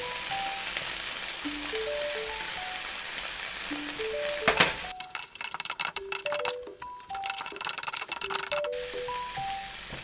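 Instant Mama noodles with seasoning stir-frying in a pan for a pork basil dish, a steady sizzle with scraping and stirring noises, and light tonal beeps scattered throughout.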